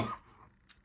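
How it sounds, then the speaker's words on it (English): A single short cough from a man with a cold, quiet and brief, followed by near silence. "sorry guys, I just coughed again"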